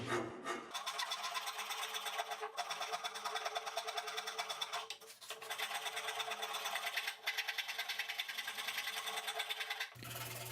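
Continuous rasping strokes of a file on wood, a rapid steady scraping that runs for about ten seconds before stopping.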